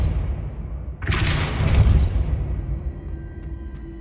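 Hogwarts Legacy's Depulso spell fires with one sudden, booming blast that rolls into a dense roar for about a second before fading into quiet ambience.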